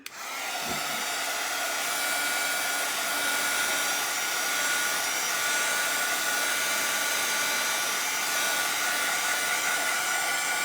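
A small heater or blower runs steadily throughout, drying stencil paint on an address sign, giving a loud, constant broadband whoosh with a faint mechanical whine and no speech.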